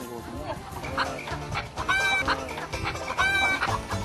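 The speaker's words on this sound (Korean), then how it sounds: "몇 마리 가져가겠다니 닭이 뿔났다." Several pet chickens of fancy, high-priced breeds cluck busily and almost without pause, each call close and clear, with a few brighter squawks rising above a steady coop chatter.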